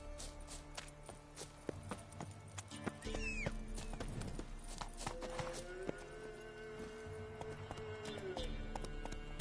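Horse hooves clip-clop at a gallop in The Witcher 3 game world, steady rhythmic beats close by with occasional whinnies, under game ambience and a voice.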